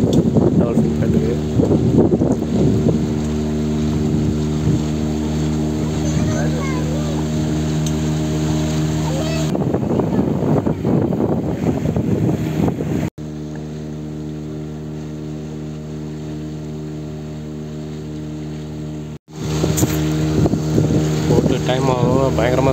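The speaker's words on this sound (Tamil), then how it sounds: "ஆக்சுவலி காற்று நல்லா கட்டிக்குது" Strong wind buffets the microphone on a motorboat trip out to Dolphin Point off Goa. A loud, steady rush and engine drone runs throughout, with people talking over it and brief cuts in between.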